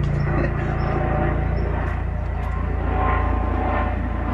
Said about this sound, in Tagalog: May aeroplano, helicopter